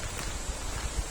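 Wind blowing through the woods on a sunny, cloudy day, a brief rough gusty rush with low buffeting thumps against the microphone.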